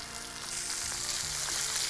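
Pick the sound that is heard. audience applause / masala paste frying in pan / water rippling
masala paste frying in pan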